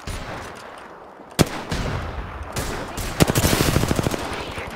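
Rapid gunfire in Apex Legends, including a sniper, bursts loud and close: a sharp single crack, then sustained rattling automatic fire and another heavy shot, with little else between.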